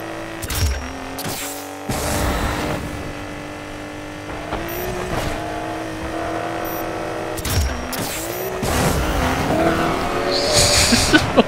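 Slicked Nissan R32 GTR drag racing on nitrous in Need for Speed Payback, a steady droning engine note rising through gear shifts with brief dips, growing louder and busier toward the end.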